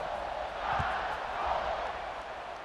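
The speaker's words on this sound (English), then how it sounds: "this crowd is buzzing after that last score" Stadium crowd in EA Sports College Football 26, a steady broad roar of many voices buzzing after a score, moderately loud and sustained, with a few muffled thumps.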